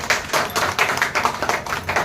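Crowd at a political welcome ceremony clapping loudly and rhythmically in unison, close and steady beats repeating about every quarter second with no talk over it.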